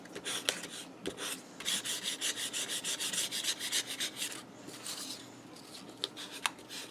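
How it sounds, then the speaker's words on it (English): Close, steady rhythmic rasping strokes as a matchbook notepad's cardboard cover is sanded down, with a few brief pauses and a handling knock. "let me sand this stuff away"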